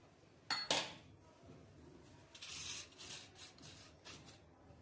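Boondi kara being mixed by hand with garlic chili powder gives a few sharp crunchy rustles followed by softer intermittent scraping and rubbing, close and without talk.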